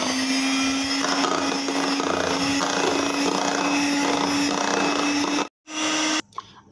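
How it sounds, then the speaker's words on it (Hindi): An electric whisk whips cream with condensed milk for mango ice cream, giving a loud, steady motor whine that cuts out briefly, restarts, then stops. "इसको हम 1 मिनट के लिए व्हिप करेंगे।"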